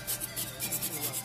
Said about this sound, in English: what I'm doing is trying to scrape it.